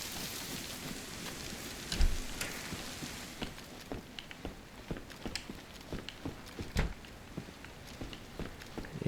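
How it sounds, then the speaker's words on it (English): Rain falling in the video game DayZ: a steady wash of rain with scattered sharp drops and taps, some louder and closer, and no voices. "It is a rainy day."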